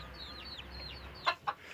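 A hen on a small French farm, one that has gone broody again, gives two short, sharp clucks near the end. Faint chirps from small birds sit in the background before them.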